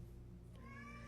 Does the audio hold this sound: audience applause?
no